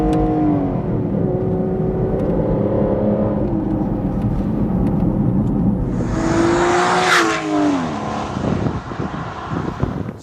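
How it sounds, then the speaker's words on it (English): A 2014 Aston Martin Rapide S engine roars close and steady as the driver uses the paddle shifters, with a sharp rising blip around the seven-second mark as it downshifts into a corner. "Use the paddle shifters,"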